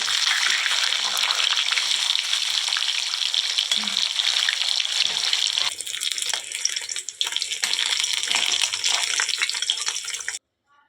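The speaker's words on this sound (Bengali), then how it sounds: "আবারও সেম প্রসেসে আমি আবার দুটো পেটি আমি ভালো করে ভেজে নিচ্ছি।" Two belly pieces of katla fish fry in hot oil with a loud, steady crackling sizzle that holds close and dense, thinning out briefly near the end before stopping.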